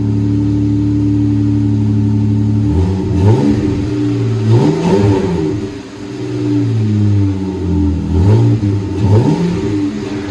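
A 2016 Jeep Wrangler V6 with a Borla Pro XS true dual exhaust idles with a low burble, then revs up sharply several times in quick bursts, each rise falling back to a deep rumble.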